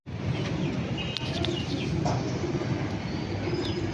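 Homing pigeons coo and chirp over a continuous wash of rushing noise, with scattered short calls and a faint flutter throughout.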